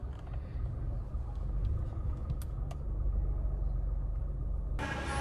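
A road vehicle rumbles past at close range with steady low engine and tyre noise that holds for several seconds, joined near the end by a brief burst of brighter noise.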